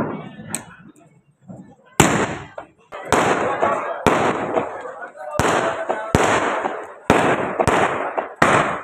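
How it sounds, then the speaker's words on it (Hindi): Diwali firecrackers burst outdoors during a festival night, in a rapid series of loud, sharp bangs about once a second, each followed by a crackling tail, after a quieter lead-in. "मस्त चलाओ दिवाली में मस्त पटाखे"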